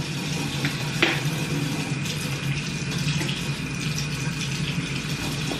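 Warm water runs steadily from a bathroom tap into a sink, a loud, continuous splashing gush with a brief knock near the start and no talking.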